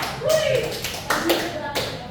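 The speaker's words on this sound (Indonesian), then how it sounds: "Tepuk tangan untuk Zia." A class applauds a student during a microteaching session, with a short scattered burst of hand claps alongside voices in the room.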